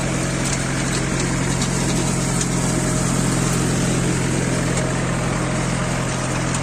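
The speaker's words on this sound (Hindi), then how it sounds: "चला रहे हैं डोज फार्म रोटावेटर। देख सकते हैं आप गेहूँ की बिजाई कर रहे हैं हम" A Dosh Farm tractor pulling a rotavator works a field while sowing wheat, its engine a loud, unbroken drone close by with no pauses.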